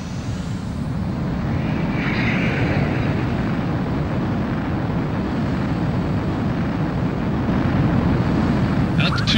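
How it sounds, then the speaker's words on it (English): A jet fighter spools up and roars down the runway for takeoff in the video game Ace Combat 04, a loud, steady broadband engine rumble filling the whole stretch with a slight swell near the end. "Mobius 1, you are cleared for takeoff"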